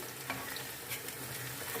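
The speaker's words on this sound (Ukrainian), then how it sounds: "Нам треба, щоб і морковка теж саме підрум'янилась, віддала свій смак, свій колір." Steady sizzling of carrots frying in a pan for plov, with occasional stirring scrapes, continuous and close.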